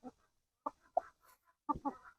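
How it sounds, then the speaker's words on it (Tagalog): Several short bursts of chicken clucking come in scattered clusters, close by and moderately loud, with quiet gaps between them and no talking. "So ito yung ating mga second batch na manok"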